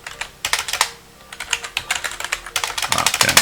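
Close typing on a computer keyboard, with quick irregular keystroke clicks in uneven bursts and a brief pause near the start.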